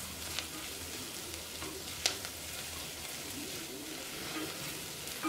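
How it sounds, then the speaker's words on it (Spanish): Garlic sizzles steadily in hot oil in a pot as the base for a slow-cooked Peruvian beef stew, a soft continuous frying hiss with a few small pops and no voices. "Vamos a dejar un minuto que se doren los ajos."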